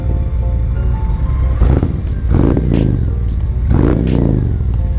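A Harley-Davidson Road Glide Special motorcycle with a Khrome Werks full exhaust system revs up close, its deep, raspy rumble swelling in two or three strong throttle blips over a steady idle.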